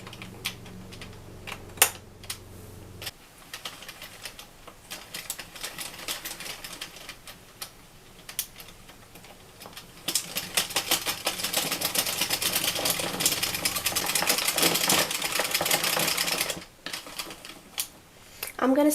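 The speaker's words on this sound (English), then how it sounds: "we're going to knit in circular knitting mode for approximately" Addi Pro knitting machine running in circular knitting mode, producing a steady, dense mechanical clatter of rapid clicks that grows louder and busier midway through, then stops briefly before resuming.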